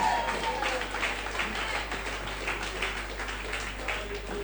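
A church congregation applauds and cheers during a worship service, a steady wash of dense clapping with crowd noise that holds evenly throughout, close and fairly loud, over a constant low hum.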